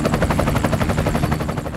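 Military helicopters, including Cobra, Puma and MI-17 types, flying past in a Pakistan Day flypast: steady, loud rotor thumping drone with continuous pulsing chop, no voices.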